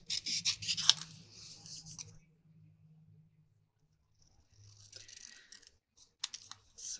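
Close scissors snip and rustle through paper while fussy cutting out a printed sugar magnolia flower for a papercraft card, with quick bursts of cutting, then a quiet stretch and a few more short snips.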